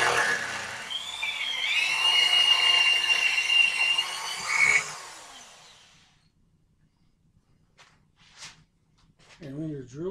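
A power drill whines steadily for several seconds while relining a gun barrel, its pitch wavering, then cuts out, leaving a quiet room with a few small clicks and a brief voice.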